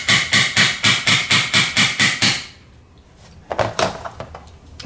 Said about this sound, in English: Give it a little smack with the hammer